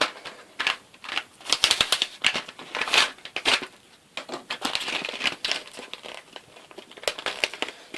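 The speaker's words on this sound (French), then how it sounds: "je vais d'abord ouvrir les dés." Close, busy crinkling and rustling of plastic packaging being unwrapped from board game dice, with irregular sharp crackles and tearing sounds throughout.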